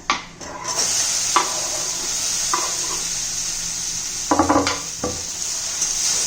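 Okra, seasoned with turmeric, coriander powder and salt, sizzles in a hot pan, a steady bright hiss punctuated by several clinking stirs of a utensil against the pan.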